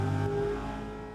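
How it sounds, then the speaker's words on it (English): A drift car's engine revs briefly during a clutch-kick entry, a short mid-pitched roar that drops off and fades, heard close. "So clutch in, rev it, and then dump it to light off"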